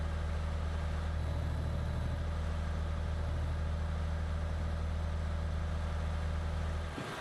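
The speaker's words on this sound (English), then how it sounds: "We can get to hear the roar of the engine." A truck engine drones steadily in the Euro Truck Simulator 2 driving game, a low continuous hum that stays even and quiet before cutting off near the end.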